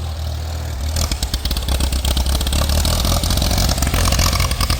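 A vintage tractor engine, a 1947 Farmall A or 1954 John Deere 60, throttles up after a quieter idle, rising to a loud, rough, pulsing chug on the first drive since late fall.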